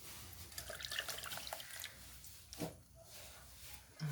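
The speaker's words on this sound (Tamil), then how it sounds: "கார தண்ணி ஃபில்ட்ரு பண்ணி நிற்கிறோம்." Water mixed with chilli drips and trickles through a large filter, a soft, irregular patter of liquid drops close by with a few louder splashes.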